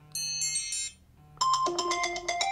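An iPhone notification tone preview: two bright electronic chime phrases of ringing tones, the second louder and longer after a brief gap, clear and close with no talking.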